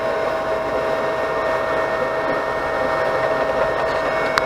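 An AnyCubic Chiron 3D printer runs steadily while printing a skull at 10% infill, giving a constant whirring motor hum with tonal whine that continues evenly and without pause.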